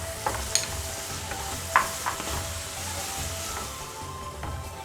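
Ground spice paste frying with onion and turmeric in a pan for a Bihari-style suran (elephant foot yam) curry, a steady close sizzle with a few scraping stirs and clinks, no voices.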